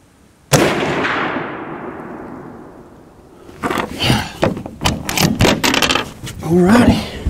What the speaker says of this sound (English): Shoot 1 more just for good measure.